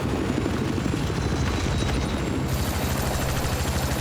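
A helicopter in the Battlefield 4 video game drones steadily with a dense, rumbling rotor and engine roar, mixed with crackling gunfire, a constant loud wash of game noise for four seconds.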